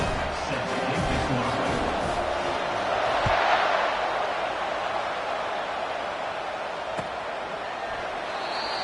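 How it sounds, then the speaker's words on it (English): A crowd in an American football stadium roars continuously after a touchdown, as the kickoff team lines up. The dense, distant wash of cheering swells briefly midway. "This crowd, full throat, spreading the eardrums and letting them know it's going to be a long day."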